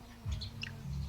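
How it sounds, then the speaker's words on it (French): A common myna calls a few times in quick succession near Aurère in Réunion's Cirque de Mafate, its short bright notes sitting over a steady low rumble. "Oiseau assez commun ici en plus, là. Les ménates."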